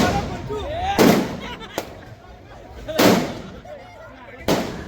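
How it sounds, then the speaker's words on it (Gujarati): Firecrackers burst outdoors at night during a Jalaram Jayanti celebration in Virpur: loud sharp cracks and crackling explosions at irregular intervals, near and far, with crowd voices murmuring between them. "કેવા કેવા ફટાકડા છે વીરપુરની અંદર ફૂટી રહ્યા છે"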